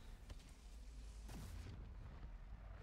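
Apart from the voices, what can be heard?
explosion in the video game VALORANT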